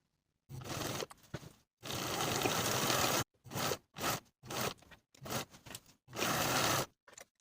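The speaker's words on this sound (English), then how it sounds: "Sew across with a 3/8 inch seam allowance, leaving a gap somewhere in the middle of about 2 inches" Home sewing machine stitching a 3/8 inch seam on a lined woman's coat, backstitching at both ends: several close bursts of whirring motor and needle, one long run followed by short stop-start stitches with silent gaps between.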